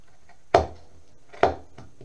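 Knife and fishtail gouge carving wood on a caricature Native American figure, two sharp cutting strokes about a second apart, close and fairly loud against a quiet room.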